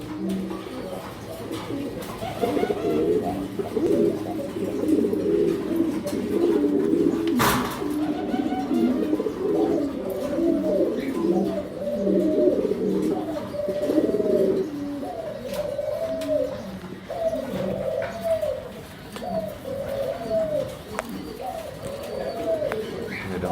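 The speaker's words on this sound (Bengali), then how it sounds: "বিগ সাইজের একটা ড্যানিশ টামলার পিজন।" Large Danish tumbler pigeons cooing in a fancy pigeon loft, a dense overlapping stream of soft throaty coos and burbling calls throughout, close and continuous, with a brief sharp knock partway through.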